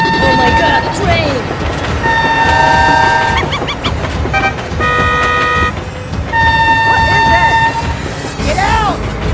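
Repeated horn blasts sound in a vehicle video game, with sustained tonal toots in several bursts over engine and game noise, and a voice talking throughout.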